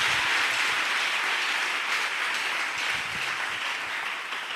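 A church congregation applauding and acclaiming the Lord, a steady wash of many hands clapping throughout, fairly distant and even.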